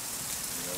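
Rain patters steadily on a surface in a dense, even hiss, soft and continuous for the whole short stretch with no clear voice.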